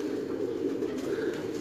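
A pigeon from a Sialkot fancier's breeding loft coos in a low, steady, continuous murmur that runs unbroken throughout, fairly close and moderately loud, with no talk.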